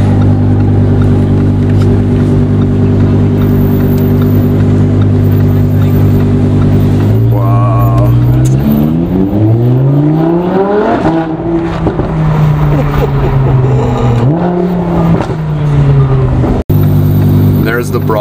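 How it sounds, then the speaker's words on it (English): A Mercedes 300 SL Gullwing on its stock exhaust idles with a deep steady drone, then revs several times with rising and falling engine pitch, loud and close. "Exhaust is stock. Sounds good for stock."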